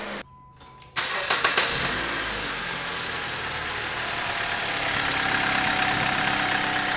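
A Subaru STI with a new alternator cranks briefly and fires up, then settles into a steady, fairly loud idle that builds slightly toward the end, with no talking.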